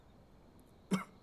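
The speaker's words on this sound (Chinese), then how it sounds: "还是咳嗽不止，难以安寝。" An ailing father in a historical Chinese drama gives one short, muffled cough near the end, otherwise surrounded by quiet room tone.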